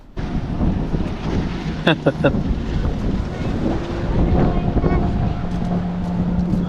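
Strong wind buffets the microphone while waves slosh against a fishing boat on a fall burbot outing, a constant heavy roar with brief knocks, and people talk faintly underneath.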